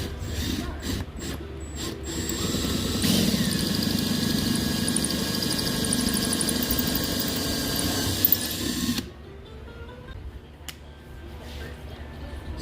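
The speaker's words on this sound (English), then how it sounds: "I'm going to drill it out" A power drill whirs steadily for several seconds while drilling out a screw on a navigation light base, then cuts off, leaving faint clicks and handling noises.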